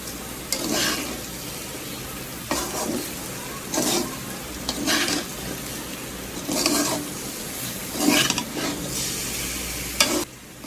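Chicken biryani ingredients stir-fried in a pan, with a constant sizzle and about seven spaced bursts of spatula scraping and stirring against the metal, close and loud, with no voices.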